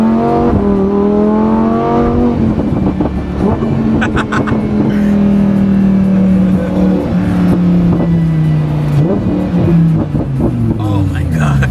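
A Lamborghini accelerates hard while racing another car, its engine climbing in rising revving sweeps with gear changes, loud and close from inside the cabin, with people talking over it.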